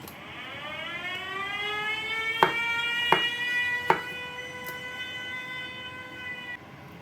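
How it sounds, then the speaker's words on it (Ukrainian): An air raid siren alert, a loud steady wailing tone with rising harmonics sounding alone, punctuated by three sharp clicks partway through before cutting off near the end. "Увага! Повітряна тривога."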